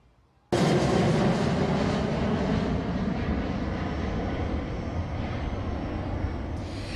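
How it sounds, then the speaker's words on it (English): A low-flying airplane passes over a school near Burbank Airport, a loud, steady broadband engine roar that starts abruptly and holds close and sustained throughout, with no talking. "we've seen several low-flying planes cruising over the school"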